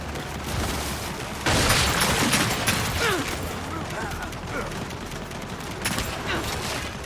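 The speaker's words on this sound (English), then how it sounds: "We're pinned down! We gotta deal with those turrets!" Turret gunfire in the video game Gears 5 during a firefight, a dense loud barrage of rapid shots and booms that continues throughout, with characters shouting over it.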